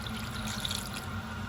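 Water is poured into a cooking pot for kare-kare with pork pata, a short steady splashing rush heard alone at close range.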